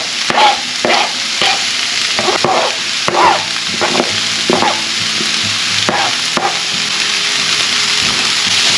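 Finely chopped onion, grated carrot and orange and red peppers fry in a pan on the stovetop, a steady loud sizzle running the whole time, broken by scraping stirs and clatters of the utensil against the pan.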